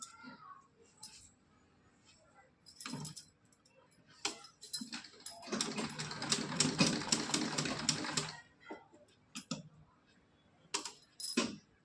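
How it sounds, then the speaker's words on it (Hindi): A sewing machine stitching small pleats into a cotton dress for a Laddu Gopal idol, with a burst of rapid mechanical ticking lasting a few seconds, set among scattered handling clicks and quiet pauses. "बहुत हल्के हल्के करके इस तरह से इस पे सिलाई लगा लेंगे हम।"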